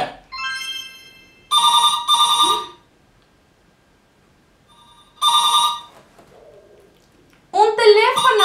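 Two bursts of an old-style telephone bell ringing rapidly, separated by a pause, with a person talking before and after the rings.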